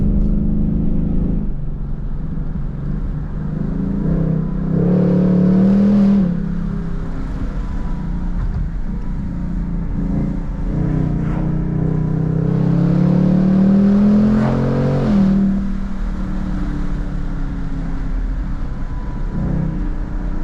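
Ford Mustang Mach 1 V8 with a 10-speed automatic while driving, deep engine drone rising and falling in two clear acceleration pulls with gear changes, steady cabin-level loudness, no voices.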